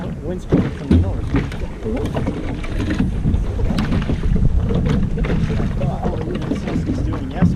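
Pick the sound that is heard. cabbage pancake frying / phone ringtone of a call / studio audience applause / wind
wind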